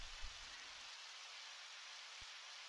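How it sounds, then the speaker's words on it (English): Rain falling in the video game Undertale, a faint, even hiss of steady rainfall throughout, with a low rumble at the start and one brief soft thump near the end. "Or maybe he doesn't care about the rain."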